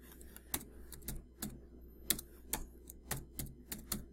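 Soft, irregular clicks of typing on a computer keyboard, about a dozen sharp key taps in uneven rhythm against a quiet background.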